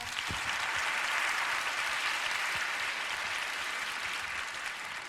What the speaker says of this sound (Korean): 저를 큰 박수로 환영해 주시니까 몸둘 바를 모르겠습니다.